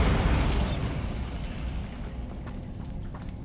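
The Bombarda explosion spell in Hogwarts Legacy erupts in a loud, deep boom at the start, then fades into a long rumbling, crackling tail of falling debris, with no talking.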